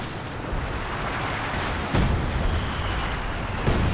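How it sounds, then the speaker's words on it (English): Anti-tank gun firing during a 2v2 Company of Heroes 2 match on the Fields of Winnekendonk map, heavy booming shots around two seconds apart over a continuous rumbling battle din. "AT gun opening fire"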